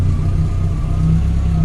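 A VW Mk2 Golf engine runs close by just after starting, giving a steady, even low hum with no talking over it.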